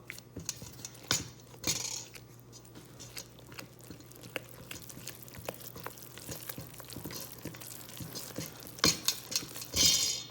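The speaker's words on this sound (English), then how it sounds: "Make sure the spoon or spatula take the dough around the bowl with it." A spoon or spatula stirs dough for braided Italian bread, made of flour and melted butter, around a bowl, giving soft, quiet, irregular scrapes and knocks with a few sharper clacks near the end.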